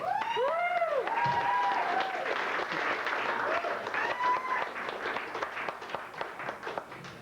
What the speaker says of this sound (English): Please give your love and applause to Chris Maltby.